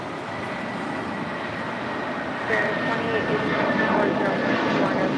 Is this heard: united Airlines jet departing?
yes